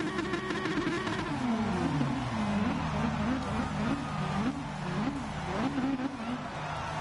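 An AMG race car in a racing video game revs its engine repeatedly, pitch swooping down and then rising and falling in rhythmic bursts, with a steady engine drone underneath.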